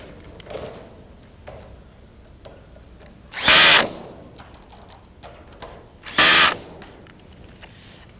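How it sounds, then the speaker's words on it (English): A cordless power drill with a Phillips bit driving bolts on a round above-ground pool: two short loud whirring bursts a few seconds apart, separated by faint clicks and handling noise, close and with no speech. "fasten them securely using a cordless power drill with a Phillips head"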